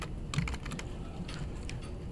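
Keystrokes on a computer keyboard while entering Swift code, a quick burst of clicky taps followed by a brief pause and a second short run, close and clear with no voice.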